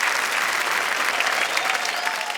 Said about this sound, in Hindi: ये ताली बजाने वाली बात है